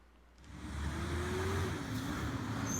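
A yard trash truck on a residential road, its engine rumbling steadily and nearby, with a low drone that shifts slightly in pitch as it idles or moves.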